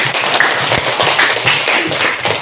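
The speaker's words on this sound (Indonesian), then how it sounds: "Tepuk tangan untuk Jini." Steady applause from a group, continuous dense clapping at a fairly loud level with no voices over it.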